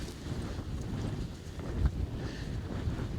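Strong wind gusts buffet a Hilleberg Akto tent during a subzero winter snowstorm, a steady low roar of wind with fabric rumble swelling into a brief louder gust near the middle, no talking.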